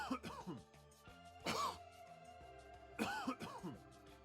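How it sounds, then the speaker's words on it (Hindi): Soft, low coughs in a few short bursts, quiet and close, with pauses between them and no talking. "सबसे पहले तो आपको धीमी धीमी हल्की सी खांसी की आवाज निकालनी है।"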